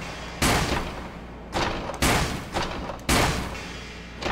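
Gunshots in the Shadow Hearts: Covenant video game, four or five loud separate blasts spaced about a second apart, each decaying briefly, with no voices.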